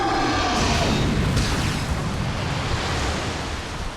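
Flashbang grenade going off in the video game The Suffering, a loud rushing boom that fills the space and then slowly rolls off into a hissing roar over about four seconds, with no voices.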